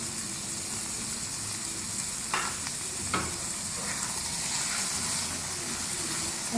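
Onions, eggs, green chilies and fresh coriander fry in a pan for a dhaba-style egg bhurji, giving a steady close sizzle with a few brief stirring scrapes and no voices.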